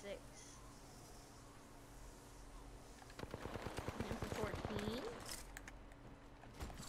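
Video game gunfire at an enemy: a rapid automatic burst of evenly spaced shots starts a few seconds in, moderately loud over faint background noise, with a voice speaking over it.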